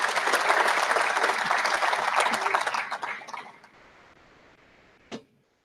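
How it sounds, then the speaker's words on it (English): A crowd at a baseball program's 100th anniversary celebration claps warmly for the caterer, with dense applause for about three seconds that tapers off into quiet, then one last isolated clap. "Kathy Hyla, can we give her a round of applause?"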